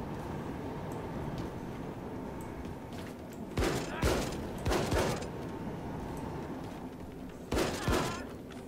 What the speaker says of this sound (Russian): Это дробовик. У меня есть два дробовика.